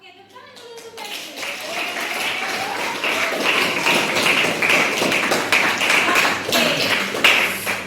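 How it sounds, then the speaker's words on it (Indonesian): A classroom of students clapping for a classmate during an Indonesian language lesson, rising after a short spoken word into steady, fairly loud rhythmic clapping that carries on with a few voices mixed in. "tepuk dulu untuk Fedri"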